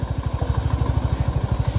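A motorcycle engine runs on a mountain road in Spiti Valley at high altitude, a loud, steady, rapid thumping throb close by, with no speech.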